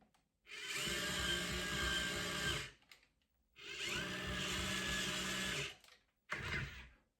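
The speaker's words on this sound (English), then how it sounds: "So his head is going to go up and down." A small motor in a toy Star Wars droid moves its head up and down, whirring in three bursts, two long and one short, with brief quiet gaps between, close and steady in tone.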